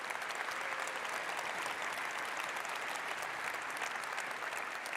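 Sustained applause from a conference audience at Cisco Live 2020 in Barcelona, honoring gold award winners; dense, even clapping that holds steady throughout without speech.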